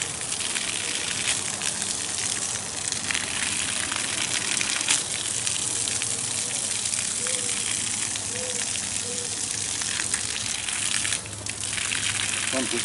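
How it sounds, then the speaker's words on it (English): A well pump runs while water gushes steadily from a hose during well disinfection, a continuous loud rushing wash with a voice speaking briefly over it. "Pump just came on, no chlorine yet."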